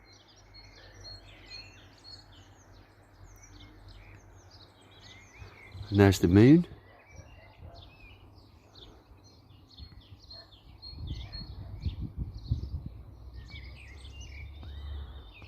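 Birds chirp and sing faintly in the background at an outdoor allotment in early April, scattered high calls throughout, while a person speaks briefly and a low rumble passes.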